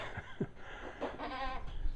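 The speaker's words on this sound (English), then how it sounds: "Something scared the goats." Goats on a property where oak is being recycled let out a few startled bleats, a short wavering call standing out briefly over background noise.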